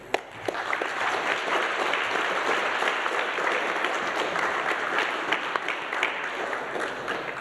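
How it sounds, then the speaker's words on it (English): Sustained applause from a lecture audience, dense and steady clapping throughout at moderate loudness. "I think you do deserve a great round of applause"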